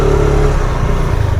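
A motorcycle cruises along a town street lined with shops opening for the day, its engine a steady, close, continuous drone with a slight rise and fall and no talk over it.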